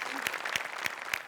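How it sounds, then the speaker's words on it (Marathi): An audience applauds performers in a brief burst of steady clapping, heard fairly quietly with a few sharper rhythmic claps standing out. "जोरदार टाळ्या यांच्यासाठी"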